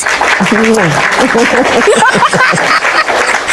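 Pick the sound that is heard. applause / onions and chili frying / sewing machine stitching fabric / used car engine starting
applause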